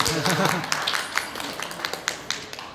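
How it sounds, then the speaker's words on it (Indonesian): At an education program presentation in Muara Enim, a voice is heard briefly at the start, then scattered audience claps follow as a handful of sharp, sparse hits. "Tepuk tangan."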